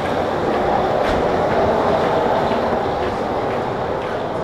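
Steady train rumble with faint clickety-clack fills a train station at Narita Airport, a continuous, fairly loud, close rolling noise.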